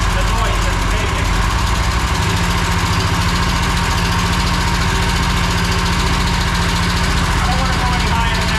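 An engine with a faulty cylinder running at low throttle, giving a steady, loud, rough idle with a rapid uneven pulsing knock that continues unchanged throughout.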